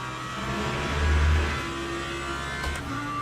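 A GT3 race car engine in the racing game Le Mans Ultimate drones steadily, with a brief swell in revs partway through before settling back to a constant hum, no voices.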